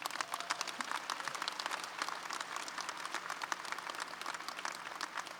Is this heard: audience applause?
yes